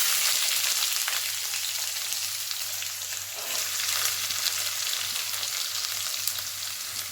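Urad dal and chopped onions frying in a pan, giving a loud, steady crackling sizzle that runs unbroken throughout with no voices.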